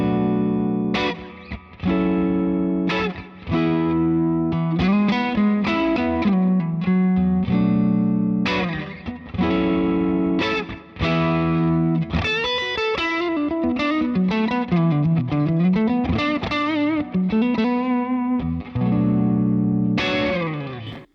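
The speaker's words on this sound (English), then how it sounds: "let's start with a clean sound on the verge of breakup" Clean electric guitar on the verge of breakup, played through a Two Notes Sir Bella 1x12 V-Type cabinet, rings out in steady chords and melodic single-note runs for about twenty seconds, close and fairly loud, with no talking.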